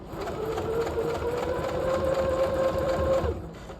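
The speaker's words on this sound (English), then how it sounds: "I want to start sewing" Sewing machine running steadily at close range while stitching a jacket pocket for a half-scale jacket's double welt pocket, a continuous whirring hum lasting about three seconds before stopping.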